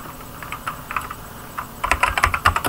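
Clicky keystrokes on a computer keyboard come in irregular bursts, sparse at first and then a denser run of rapid taps near the end, close and fairly quiet, with no voices.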